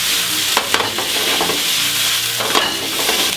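Sliced potatoes and garlic sizzle loudly in a pan while being turned, with a bright continuous hiss broken by a couple of scraping flips close by.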